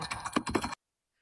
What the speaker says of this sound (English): he was typing for his life